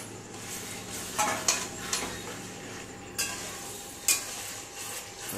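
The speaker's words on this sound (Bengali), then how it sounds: "এবার আলুগুলো টুকটুক করে দিয়ে দিই।" Fried potato pieces drop one by one into a pot of hot mutton curry, each landing with a metallic clink and a brief sizzle over a soft background hiss.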